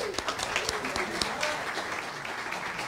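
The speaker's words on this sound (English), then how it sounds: "Round of applause for Dwight." A church congregation applauds in a steady, moderately loud patter of many hands that fills the room, with faint murmuring voices underneath.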